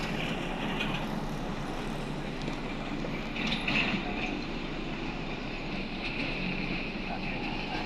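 A long train passing along a road in Manila, a continuous low rumble with rolling rail noise heard from the roadside, with people talking faintly underneath.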